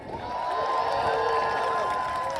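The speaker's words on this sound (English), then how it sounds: "Give a round of applause for yourself again." A large crowd at a No Kings protest rally in Chicago cheers and shouts continuously, a steady roar of many voices with sustained whooping tones over scattered clapping.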